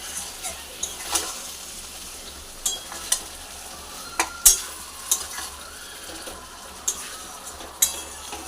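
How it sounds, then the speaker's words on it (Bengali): Kashmiri chili powder masala with a little water being stir-fried in a pan for a Bengali fish curry, with faint sizzling and a series of sharp spatula scrapes and taps at irregular intervals. "সামান্য একটু জল দিয়ে আমি কষিয়ে নেব।"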